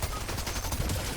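Rapid automatic gunfire from a turret in Fortnite, a dense continuous burst of shots that fills the whole moment, loud and close without a break.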